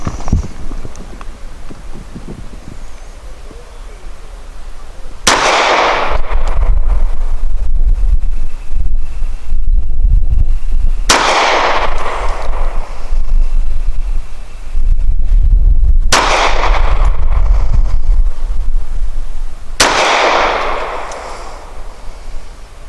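Springfield XDe 9mm pistol firing Nosler match grade 124 grain ammunition at 7 yards, four loud sharp shots spaced several seconds apart over steady outdoor wind noise.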